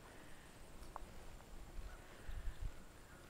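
A horse walks through an obstacle course past black rubber tire obstacles, its soft hoof clip-clops faint and sparse over steady outdoor background noise, with a few duller thuds near the end.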